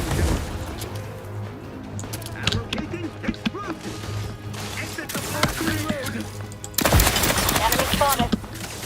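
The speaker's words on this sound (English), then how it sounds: "it's the big robot that's shooting" Rapid gunfire from a big robot enemy in the Outer Worlds 2 video game, bursts of shots and booms over a busy game soundscape, growing louder and denser toward the end.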